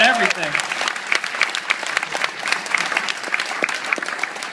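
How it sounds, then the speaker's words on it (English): Loud, dense applause from a Comic-Con panel crowd at San Diego, steady clapping sustained throughout with a brief voice at the very start. "I want to hear a really loud applause here from Mr. Humberto Ramos"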